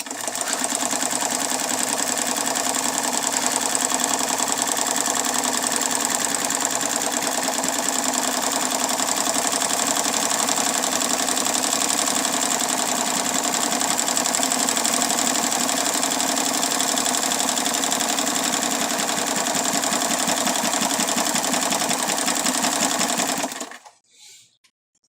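A sewing machine fitted with a buttonholer attachment stitches a zigzag buttonhole, giving a steady, loud, close mechanical whir and rapid rhythmic clatter for about 23 seconds before it stops.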